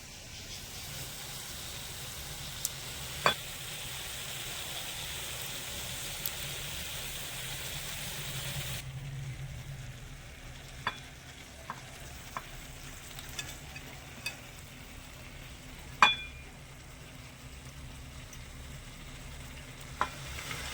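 Drumstick flowers and eggplant sizzle in a frying pan while a spoon stirs them, giving a steady hiss with scattered clicks and scrapes; the sizzle quiets partway through and the stirring taps continue.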